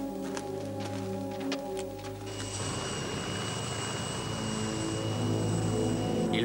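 An airplane is taking off, with a steady, loud engine roar that carries throughout and swells slightly toward the end, and no voices over it.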